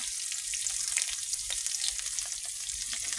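Fish sautéing in a pan with green chili, ginger, onion, curry leaves and salt, a steady close hiss of sizzling oil with faint stirring scrapes throughout.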